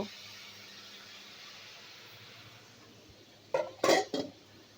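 A metal lid clanks off a cooking pot in a few quick bright knocks near the end, after a stretch of quiet hiss in a home kitchen where hilsa fish roe is cooking.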